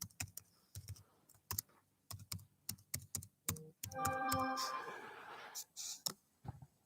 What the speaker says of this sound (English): I'm supposed to be typing my email address in here.